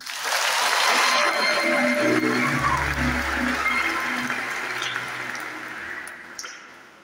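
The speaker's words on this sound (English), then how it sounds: "Can you help me to clap for him?" Church congregation applauding a priest at a deacon's farewell, a dense steady wash of clapping that holds strong for several seconds and then gradually thins and fades, with a low murmur underneath.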